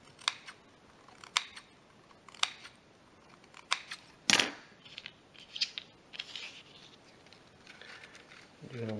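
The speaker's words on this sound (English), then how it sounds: "do a few snips on this end" Scissors snip into the end of a cardboard stomp-rocket tube, several crisp separate cuts spaced irregularly, with handling rustle and a louder crunch in between, and a person speaking in places.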